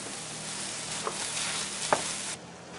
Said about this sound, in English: I'm going to get them in there and fry them in with my burger.